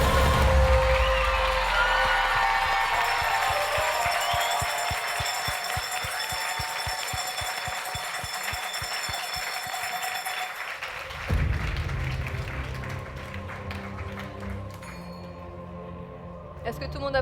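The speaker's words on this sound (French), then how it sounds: "on peut les applaudir" Audience applause at the Chronos d'or 2022 award ceremony, steady clapping with some cheering and glass clinks, continuing for most of the stretch before thinning out, with a voice briefly audible.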